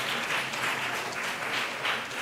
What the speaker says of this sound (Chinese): 拍手来欢迎